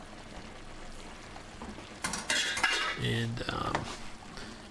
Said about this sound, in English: it's time to just dump the spaghettis in for the last minute or two of cooking there